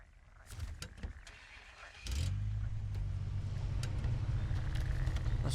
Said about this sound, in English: we're gonna take the Chevy back to the garage here